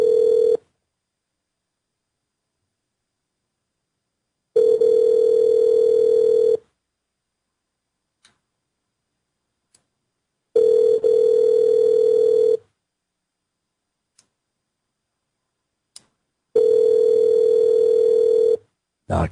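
Ringback tone on an outgoing phone call: four long, steady two-second rings separated by about four seconds of silence, loud and clear with no talking.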